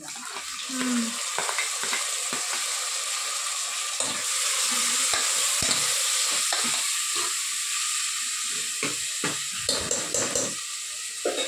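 Fenugreek leaves stir-frying in a pan with tomato, giving a steady sizzle and hiss broken by repeated scrapes and stirs of a spatula, close and continuous throughout.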